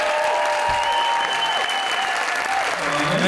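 An audience at a diversity and inclusion award ceremony applauds in a sustained, dense clapping roar, with a voice or music faintly audible beneath.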